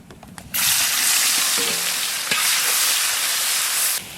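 Bay leaf, cumin and onion hit hot oil for a Bengali katla fish curry, bursting into a loud, steady sizzle after a brief quiet start that holds for several seconds, with a small crackle midway before it stops.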